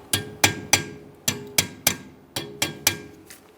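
Sharp metallic hammer taps, about ten in an uneven rhythm, seat a rear brake component into its mounting on a 2013-2020 Ford Fusion; close, clear strikes with no talking.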